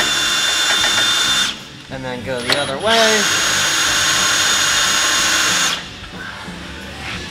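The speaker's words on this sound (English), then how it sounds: "Apply some pressure here and spin it with a drill." Power drill spinning the front differential of a Jeep Wrangler JL during a 5.13 re-gear, whirring loudly and steadily in two long runs, with a short spoken pause between them.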